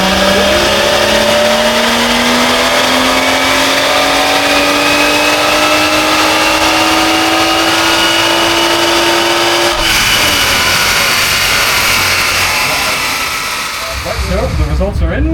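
A modified car at a large Welsh car show screams through a dyno power run, its engine note climbing steadily in a long sustained rev before cutting off and settling, loud and close, with crowd and voices around it.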